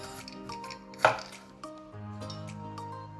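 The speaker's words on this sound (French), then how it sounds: "On prend une patate, on la coupe dans la longueur." A knife cuts lengthwise through a raw potato on a cutting board, giving one sharp, close chop followed by quieter scraping and small knocks, with no talking.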